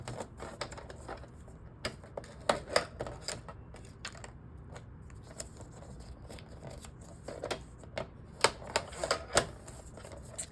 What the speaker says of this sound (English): we go ahead and fold these up and give them a good burnishing